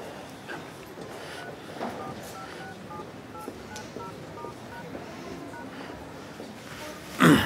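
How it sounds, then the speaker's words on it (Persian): Mobile phone dialing a call, a quick sequence of short keypad tones in an uneven rhythm over quiet room ambience, ending with a brief louder rustle. "میتونم با موبایل توی زنگ به امیر بزنم"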